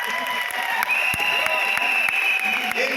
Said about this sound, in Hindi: ताली किसके लिए बजा रहे हो?